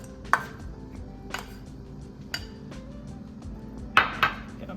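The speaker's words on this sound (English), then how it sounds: "So we're gonna put our peppers in there. We got our tomatoes." Chopped peppers and tomatoes drop into a bowl in a handful of separate close clinks and taps as a spoon or utensil knocks the rim, with quiet pauses between.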